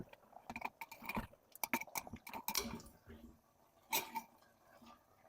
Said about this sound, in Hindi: तमाम मसालों को मैं गोश्त के साथ मिक्स कर लूंगी चम्मच की मदद से